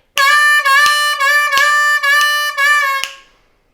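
C harmonica playing the riff of a song, a run of sustained reedy notes with short breaks between phrases, close and loud, no talking, fading out at the end.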